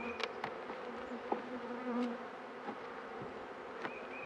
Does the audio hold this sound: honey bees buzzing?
yes